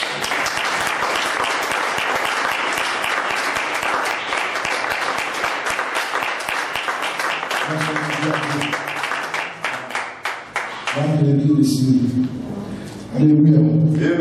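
A congregation applauds the Lord during a French-language Sunday service at a tabernacle church: loud, dense clapping runs for about ten seconds, then thins as voices and music rise beneath the last claps.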